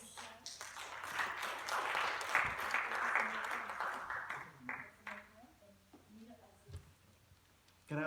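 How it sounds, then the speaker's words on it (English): Audience applause at a Da Vinci celebration event at the National Art Gallery, a few seconds of crowd clapping that swells and then thins into scattered individual claps, with faint voices underneath. "let's give them a round of applause."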